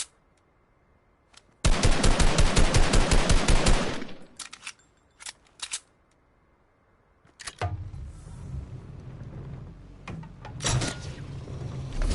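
Fortnite gunfire in a duo arena match: a loud rapid burst of automatic shots lasting about two seconds, followed by a few scattered single shots and later busier combat noise.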